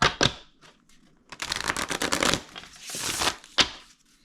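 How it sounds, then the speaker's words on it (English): A deck of playing cards is shuffled at a casino table in a long riffling burst of crisp, rapid flutters, framed by a few sharp snaps and taps, close and fairly loud with no talk. "Let me go ahead and give it a shuffle."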